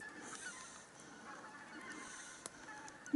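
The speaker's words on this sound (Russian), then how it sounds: "Гуси полетели." Geese honking as a flock flies over cold October taiga, a few faint, distant calls scattered over steady outdoor background noise with no talking.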